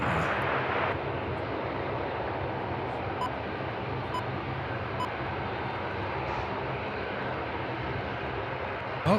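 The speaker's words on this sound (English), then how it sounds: "Runway 16 left, clear for takeoff." An airliner roars down runway 16 left at Sydney Airport on takeoff at night, a loud sustained engine rumble filling the scene from start to finish, with faint beeps above it.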